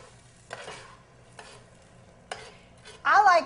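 Onions cooking in a pot for crawfish etouffee give a quiet stirring scrape with faint sizzle across three brief bursts, then a louder, closer sizzling stir near the end.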